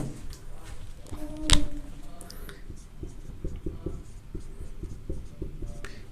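Marker or chalk scratching on a classroom board during a highway engineering lecture on stopping sight distance, steady close strokes with a sharp knock partway through and faint room noise, no voice over the writing.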